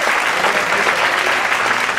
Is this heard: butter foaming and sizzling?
no